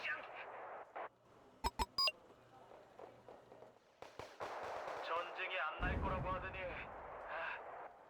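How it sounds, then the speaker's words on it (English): A T-80B tank fires in a combat video game: several sharp, loud booming bursts in quick succession, with a tight cluster near the start and further shots later, set among gunfire, radio beeps and voices talking. "That's a tank."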